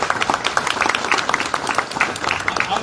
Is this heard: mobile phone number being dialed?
no